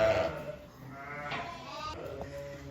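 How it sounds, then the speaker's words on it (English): Sheep in a pen, with lambs and ewes, bleat close by in several wavering calls one after another, loud and clear over quiet background noise. "So we've got lambs in here, separate for the first time,"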